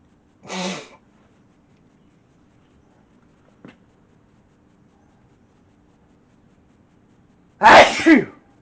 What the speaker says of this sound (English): Excuse me, had a sneeze.